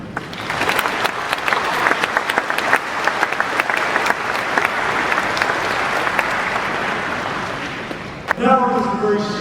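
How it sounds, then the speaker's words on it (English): A large audience at the ACM ICPC World Finals 2016 claps in sustained, dense applause for about eight seconds, fairly loud and close, before it cuts off abruptly into a brief musical tone. "ladies and gentlemen, join me in a round of applause"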